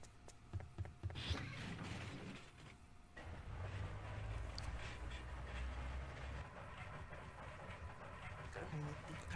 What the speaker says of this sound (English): Let's ride the train with her